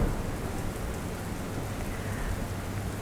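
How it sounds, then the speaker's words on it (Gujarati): Continuous rain falls in Botad, Gujarat, a dense, even hiss of drops hitting surfaces, close and steady throughout with no voices. "બોટાદ ભાવનગર સહિતના વિસ્તારો કે જ્યાં સતત વરસાદ ચાલુ છે"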